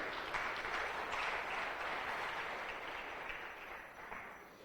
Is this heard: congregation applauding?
yes